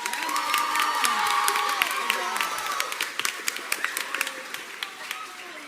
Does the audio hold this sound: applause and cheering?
yes